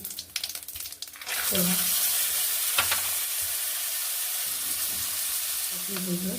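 Bay leaf, dried chilies, whole cumin and peanuts hit hot oil with a loud, steady sizzle after a few seconds of stirring clatter, the frying hiss continuing with brief spatula scrapes and a voice heard faintly.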